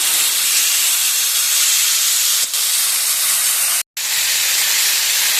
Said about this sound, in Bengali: তার জন্য হালকা একটু জল দিয়ে দিলাম